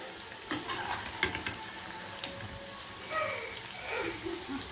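Bhaji fritters fry in hot oil with a soft, steady sizzle, broken by a few sharp clinks and scrapes at moderate distance, with no voices.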